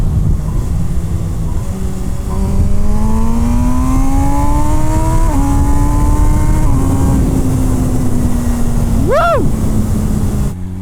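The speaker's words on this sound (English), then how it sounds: "the engine's everything you'd expect from a 208 horsepower inline 4. It absolutely loves to be revved" An MV Agusta Brutale 1000 RR 208hp inline-four motorcycle pulls hard through the gears, its engine note rising and stepping with each shift under heavy wind roar, with a brief sharp rev swell near the end.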